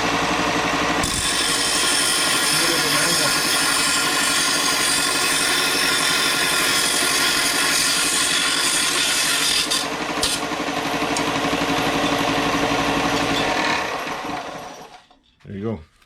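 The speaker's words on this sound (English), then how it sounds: "Belt sander." A belt sander grinds steadily across a wooden piece for about fourteen seconds, a loud continuous abrasive rasp that cuts off near the end, followed by a brief faint tail.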